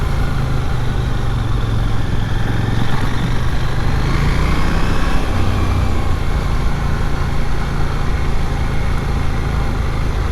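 A KTM 890 Duke R parallel-twin motorcycle engine running while riding, a steady loud drone with a low rumble and slowly shifting engine tone, accompanied by continuous wind noise.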